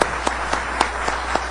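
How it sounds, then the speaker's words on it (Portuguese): Applause for a professor at a meeting, loud and close, with distinct individual claps in a regular rhythm over a steady low hum, suggesting a small group clapping. "a gente gostaria de uma salva de palmas aqui para o nosso professor Francisco,"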